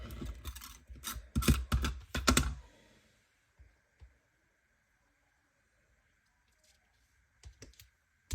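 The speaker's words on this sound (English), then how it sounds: "I'm just using my my glue tape here." Glue tape dispenser run over scrapbook paper for a winter double-page layout, a burst of dense close scratchy clicks and rolling for about three seconds, then near silence with a couple of faint taps and a short rustle at the end.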